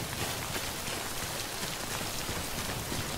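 Timefall rain pours in the video game Death Stranding, a dense, even hiss of falling rain and drops spattering on surfaces, steady and close throughout with no talk over it.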